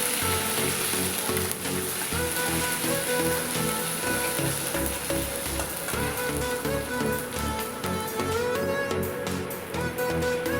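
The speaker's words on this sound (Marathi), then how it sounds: "आता थोडंसं अद्रक लसणाची पेस्ट टाकत आहे ते आता मस्त मस्तपैकी ह्या तेलामध्ये आपल्याला फ्राय करून घ्यायचं आहे" Ginger-garlic paste frying in hot oil, a steady dense sizzle and crackle that continues throughout, partly masked by background music.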